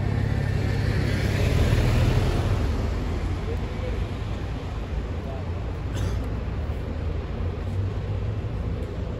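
An Audi R8 sports car drives past on a busy Paris street, a loud steady engine roar with heavy low rumble and surrounding traffic noise throughout, swelling slightly early then holding.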